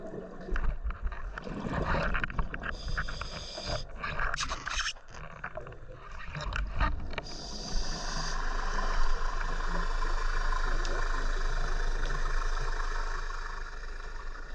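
A boat engine heard underwater during a scuba dive off Grosse Ferriere, south of Herm, hums as a steady, muffled low drone beneath the gurgle and bubbling of a diver's breathing, growing more constant toward the end.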